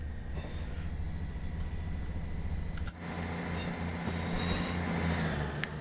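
A snow-covered train in Train Sim World 3 rumbles along with heavy, steady low wheel and engine noise, a brief dip partway through, then a rising grinding drone as the wheels slip.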